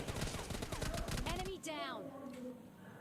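Rapid gunfire from a PUBG Mobile Lite match, a dense burst of quick shots for about a second and a half, then a sharp final crack and fading echo with faint game ambience.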